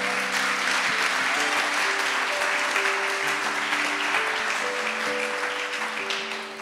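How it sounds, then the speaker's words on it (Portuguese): A church congregation claps steadily and fairly loudly for a pastoral ordination, with a sustained keyboard or organ chord underneath throughout. "Você pode dar uma salva de palmas?"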